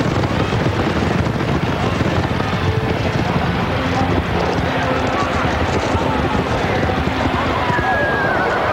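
A racehorse gallops over a dense, busy crowd-like roar, with a whinny breaking through partway in and hooves drumming throughout.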